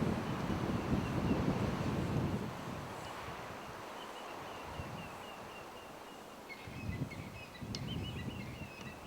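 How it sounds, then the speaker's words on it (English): Strong wind gusts buffet the microphone outdoors during a Sharp's grysbok bowhunt, a loud roaring rumble at the start that eases into a steadier rush and surges again near the end. "The wind is blowing quite strongly."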